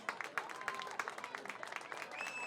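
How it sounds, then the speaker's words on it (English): Fans applauding at a college baseball game, UCLA against UCR, a moderate round of clapping and scattered cheers from a crowd in the stands, steady for a couple of seconds and heard from a distance. "the Highlander fans who have come out to the west side giving Frazier a big round of applause"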